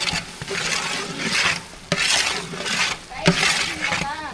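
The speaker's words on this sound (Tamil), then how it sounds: "மசாலாவெல்லாம் சேர்த்தாச்சு நல்லா கலந்து விட்டுக்கலாம்" Masala of onion, tomato, and ginger-garlic paste with garam masala and turmeric being stirred in a pan, scraping and rubbing strokes with a few sharp clinks of the spoon against metal.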